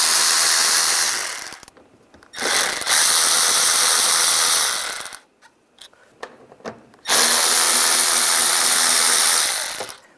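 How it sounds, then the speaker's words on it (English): A power ratchet driving a T20 socket backs screws out of the front bumper on a 1999-2005 Volkswagen Jetta, running in three loud bursts of steady whirring separated by short pauses and faint clicks, with no talk. "I'm going to use a T20 socket."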